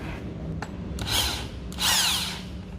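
An electric drill spins a manual coffee grinder in two short whirring, grinding bursts, separated by quiet pauses and a faint click.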